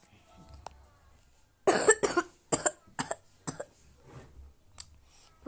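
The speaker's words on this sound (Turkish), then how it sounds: "Bu öksürük beni nereden tuttu ya?" A child's coughing fit at school: a burst of several rough, close coughs in quick succession followed by a few more spaced single coughs, with quieter background sound between them.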